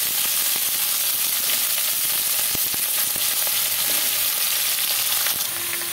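Vegetables frying in hot oil tempered with nigella seeds give off a loud, continuous close sizzle, with occasional stirring clatter breaking through the steady hiss.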